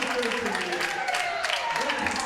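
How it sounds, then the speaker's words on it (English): Arena crowd applause and cheering at a high school boys' hockey game swell as a steady wash of clapping, with an announcer-like voice murmuring faintly underneath. "That brings up applause."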